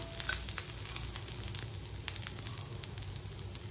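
Green chillies with cumin being sautéed in a pan for mirchi thecha, giving a soft, steady sizzle with faint crackles throughout and no voices.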